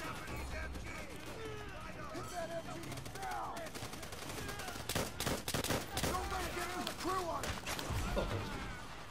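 Rapid gunfire from Call of Duty: World at War, World War II weapons crackling in dense bursts throughout, heaviest midway and near the end, with shouting voices and battlefield noise underneath.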